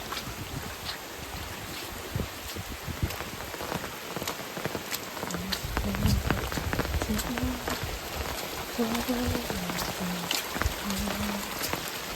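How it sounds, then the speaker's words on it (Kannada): Steady broadband rush of running water with patter, a swollen, muddy red rain-fed stream flowing nearby; brief muffled sounds appear partway through. "ಫುಲ್ಲು ಕೆಂಪು ನೀರು ಹೋಗ್ತಾ ಇದೆ"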